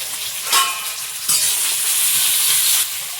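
Food lightly frying in a pan gives a loud, close sizzling hiss that swells twice as it is stirred, with soft scraping beneath and no voices over it.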